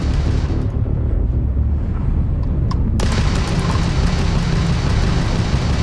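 Crimson Fleet ship weapons firing during ship combat in Starfield: a dense, steady roar that abruptly turns harsher and brighter midway into a sustained barrage of rumbling blasts, loud and close, with no talk.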